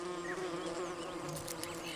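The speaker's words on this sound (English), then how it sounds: "Rhopalidia wasps." Close, steady buzzing of Rhopalidia wasps at their comb on a cave wall, several insects droning at once with shifting wingbeat tones.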